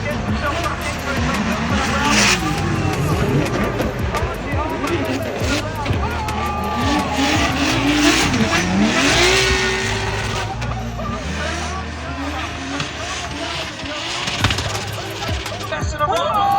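Drift cars sliding at a circuit during chase and lead runs, engines roaring and revving with tire squeal and screeching as they transition bumper to bumper, under a commentator's steady speech.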